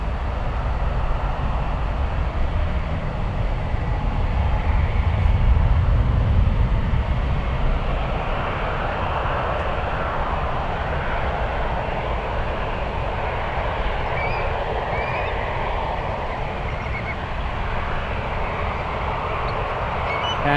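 A jet airliner heading to Paris departs San Francisco International Airport, its engines a deep, sustained roar and rumble that swells slightly and holds steady at a distance for about twenty seconds.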